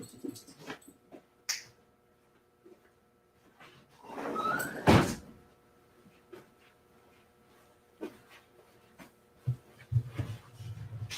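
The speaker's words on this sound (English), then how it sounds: "let me just close the door." A door closes indoors with a soft slide and a solid thunk, set among faint scattered knocks and small dog sounds in an otherwise quiet room.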